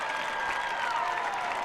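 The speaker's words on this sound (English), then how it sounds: "You can hear the stands thundering with the defense cheer." A stadium crowd at a football game roars and applauds for the defense, a dense, sustained wash of distant cheering with no gaps.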